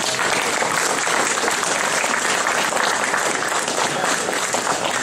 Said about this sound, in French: Je crois qu'on peut l'applaudir pour son contenu et pour le timing.